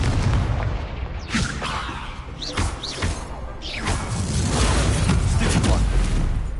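Confringo blasting-spell explosions in Hogwarts Legacy, a run of deep booms and whooshing bursts firing every second or so amid dense game noise, with some spell-casting voice underneath.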